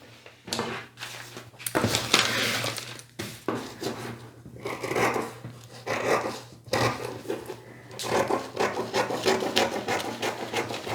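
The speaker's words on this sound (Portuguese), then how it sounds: "agora eu vou recortar aqui todas essas partes" Scissors cutting through fabric or paper pattern pieces for children's pajamas, a steady run of close rasping snips and rustles with brief pauses, no talking.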